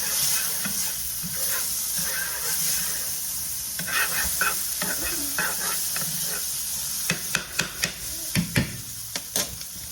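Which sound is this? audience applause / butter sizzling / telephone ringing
butter sizzling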